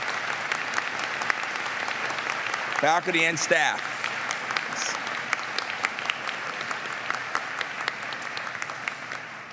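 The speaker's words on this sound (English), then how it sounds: "give them a round of applause for what they've done to support you" Sustained audience applause at a university winter graduate commencement ceremony, steady and fairly loud throughout, with a voice speaking briefly over the clapping.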